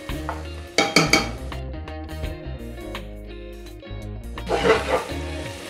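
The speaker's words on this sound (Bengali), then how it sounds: "ভালো মতো নেড়ে ছেড়ে দিলাম।" Spicy red Bengali mutton kosha being stirred in a pan, with scraping and clinking of a spoon against the metal at intervals, louder bursts near the start and end over steady low cooking noise.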